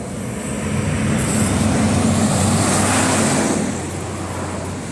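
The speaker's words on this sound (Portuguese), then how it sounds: "Bastante trânsito hoje" Heavy traffic on the BR-101 highway in Itajaí, Santa Catarina, a steady broadband roar of passing cars and buses with a low engine drone that swells in the middle and eases toward the end, with no voices.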